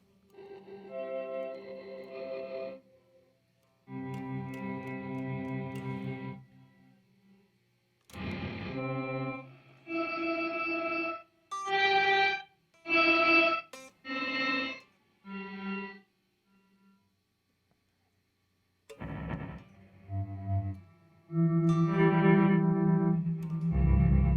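Bursts of guitar chords ring out through a Chase Bliss Dark World reverb pedal set to long decay, each note trailing into a long, wavering, washed-out reverb tail between pauses.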